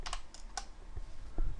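Typing on a computer keyboard while writing C++ code, a few scattered close key clicks and taps separated by short pauses, with no talk.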